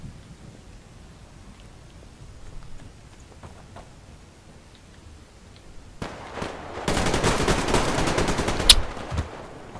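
SVU rifle fire in the online shooter game Survarium, quiet game ambience at first, then a loud, rapid string of gunshots in the last few seconds.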